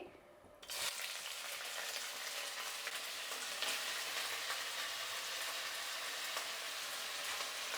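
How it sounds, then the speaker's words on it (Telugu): Jackfruit pieces hit hot oil for biryani after a brief quiet moment, then a steady, dense sizzle and crackle of frying continues evenly throughout without any voices. "దీన్ని ఒక 5 నిమిషాలు వేయించుకోవాలండి"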